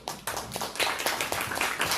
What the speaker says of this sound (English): All right, now we can applaud for Hamilton